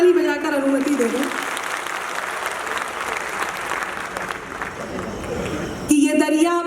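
Crowd applause at a Hindi poetry recital, sustained dense clapping filling the middle of the clip, with someone speaking at the start and again at the end.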